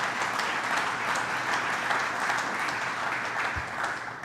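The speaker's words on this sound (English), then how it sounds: "Let's give him a round of applause" Audience at a governor's public announcement event giving steady, sustained applause throughout, a dense clapping texture at even loudness.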